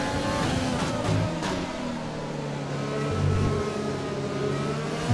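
Formula 1 car engine from the F1 2020 racing game at the Dutch Grand Prix in Zandvoort, a steady loud high-pitched whine with shifting revs and gear changes, continuous and close throughout.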